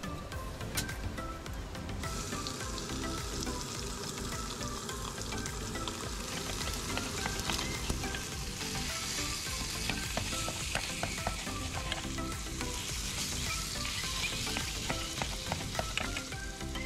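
Food sizzles and crackles steadily in a pan over an open fire inside a coastal cave, a dense, continuous frying hiss that stays close and fairly loud throughout, with no voices.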